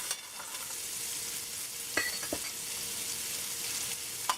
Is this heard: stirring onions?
yes